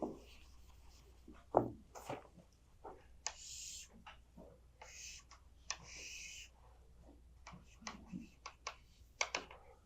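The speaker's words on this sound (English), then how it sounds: "In fact, let me draw it much bigger." Marker or chalk strokes sketch a large sector diagram by hand on a board, with short squeaky swipes and taps coming in uneven bursts, fairly close but quiet.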